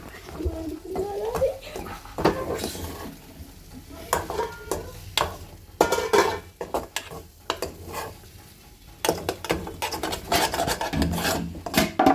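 Egg curry stirred in a pan with a spoon, repeated scraping and rasping strokes in irregular bursts over a soft sizzle, close by, with a person talking in between.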